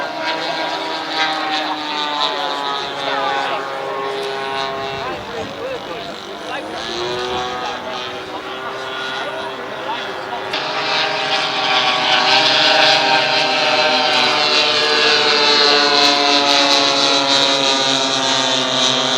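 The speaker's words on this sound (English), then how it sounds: "So we have 6 petrol engines in the air, 4 models, 6 petrols." Petrol-engined model aircraft at an airshow flying a loop, its propeller engine droning continuously and rising in pitch and loudness as it comes back down with throttle changes, heard from a moderate distance.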